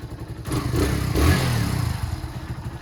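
A used dirt bike engine runs steadily after a choke start, a loud close putter with rapid regular firing pulses that swells briefly as it revs, then settles back to a steady idle.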